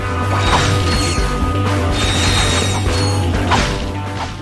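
Smashing action in the game Ratchet and Clank: Up Your Arsenal, with loud mechanical clanking, crunching impacts and whirring gear-like noise layered over a steady low hum, continuous and dense without pause.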